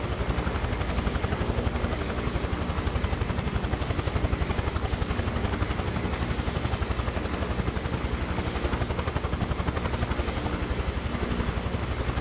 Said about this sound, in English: It is such a good helicopter. Sounds so fucking good.